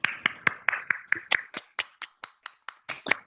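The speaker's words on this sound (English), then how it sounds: "Let's give Pedro a round of applause." A single person claps about fifteen times in an even rhythm after an online talk, crisp and close with nothing else heard.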